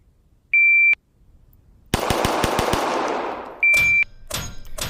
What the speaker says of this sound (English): shoot paper target 6 times each